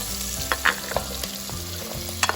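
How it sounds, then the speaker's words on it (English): Chopped vegetables fry in oil in a pot, the start of an Italian-style lentil soup. A steady close sizzle carries a few louder pops and stirring scrapes, with no talking. "So I'm going to go ahead and put all the vegetables in."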